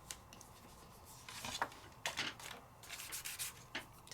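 Ink rubbed onto a stencil laid on a card base, faint close scratchy rubbing strokes in short irregular bursts.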